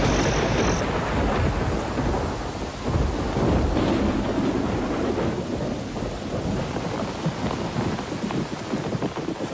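A night-time thunderstorm: dense, steady rain pours down while low thunder rumbles and swells throughout, loud and continuous with no voices.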